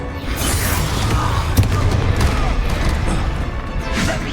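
Confringo and Glacius spell blasts in the Hogwarts Legacy video game, a dense run of booming impacts and crashing bursts layered over battle noise, with a voice calling out under the din.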